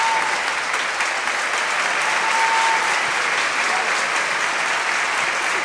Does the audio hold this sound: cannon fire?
no